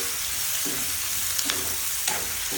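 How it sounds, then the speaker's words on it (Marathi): Chopped onion sizzles in hot oil with asafoetida and cumin in a wok, a steady close crackle broken by a few soft scrapes of a stirring spoon. "कांद्याला छानपैकी परतून घ्यायचं।"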